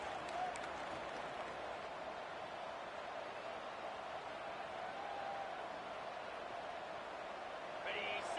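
Loud, continuous roar of a stadium crowd in an American football video game, cheering for a defensive red zone stop, a dense wash that holds steady throughout.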